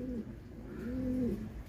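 Young racing pigeons coo softly nearby, two low rolling coos in close succession, faint against quiet background, with no talking.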